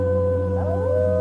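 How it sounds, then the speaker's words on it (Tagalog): A long, loud howl from an unseen creature rises and bends in pitch over a steady low drone, sounding like a dog or wolf howling in the night with no talk. "nakarinig siya ng alulong ng kung anong halimaw mula sa magharang bahay"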